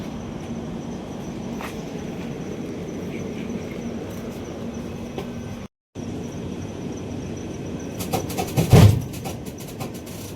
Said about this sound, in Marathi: ती ट्रेन पास झाली आणि लगेच ही पण निघाली ट्रेन.